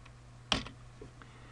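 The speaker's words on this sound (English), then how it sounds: "if we press the up arrow on the keyboard" A single sharp computer keyboard key press, the up arrow, clicks close by, followed by a couple of fainter taps against a quiet background hum.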